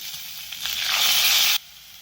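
Cumin, curry leaves and garlic sizzle loudly in hot oil for a spicy vegetable dish, a bright hiss that swells for about a second and then cuts off abruptly.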